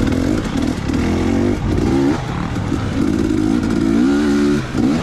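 A dirt bike engine revs in short, repeated bursts during a motocross race on sandy ground, the close rider-mounted engine rising and falling as the throttle is worked through rough terrain.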